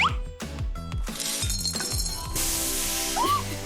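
Ice cubes clink and rattle in a glass as a cold drink is made in a video game, a run of bright chinks over a busy musical game soundtrack with no talk.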